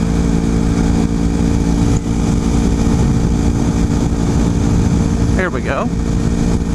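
A 250cc motorcycle engine runs steadily while the bike is ridden into a curve, a constant loud drone with wind rumble throughout, and a rider's voice speaks briefly over it near the end.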